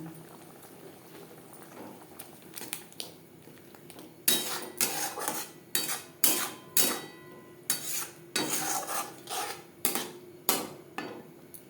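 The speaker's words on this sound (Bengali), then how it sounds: "মশলা বেশ ভালো করে কষিয়ে নেওয়া হয়ে গেছে" Ginger, chili, garlic, onion and tomato are sautéed with spices in a pan while the cook prepares street-style chicken chow mein, giving a steady low sizzle broken by repeated sharp scrapes and clanks of a metal spatula against the pan.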